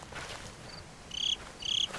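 Crickets chirp in a dark forest in the video game Slender: The Arrival, two short bright trills rising over a soft hiss of night ambience.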